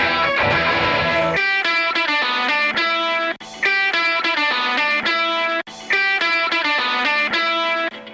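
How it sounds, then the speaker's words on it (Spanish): Crunchy, hard-hitting distorted electric guitar in a song, loud and continuous, with punchy repeated chords over a full band mix and two brief drops in level. "esto ya sí es distorsión crunchy con, mucho golpe"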